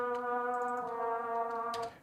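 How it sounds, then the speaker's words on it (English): Sustained trumpet layered in the background of a hip-hop beat, a single bright held tone with rich overtones that swells faintly, wavers slightly and fades out near the end. "To layer it, added a trumpet in the back, which goes a bit like this,"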